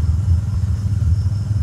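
A motorcycle rides along a village road at night, its engine a close, steady low rumble with slight pulsing throughout.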